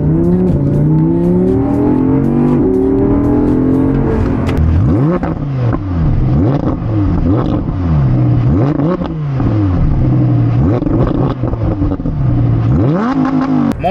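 An Audi R8 launches hard under launch control, the engine roaring loud and close as it climbs through rising revs with repeated sweeping upshifts, the pitch dropping and surging again in a continuous, unbroken acceleration.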